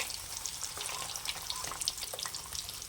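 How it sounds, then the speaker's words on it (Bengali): Boiled eggs fry in hot oil in a home kitchen while being browned for egg biryani, giving a steady close crackling sizzle with scattered pops and no talk. "এইভাবে আমি লাল করে ভেজে নেব।"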